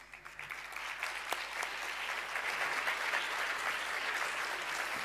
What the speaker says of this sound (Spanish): Gracias por la generosidad del aplauso, que no lo merezco